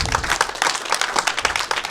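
A comedy club crowd claps enthusiastically, a dense rapid patter of many hands with no talking, close and loud.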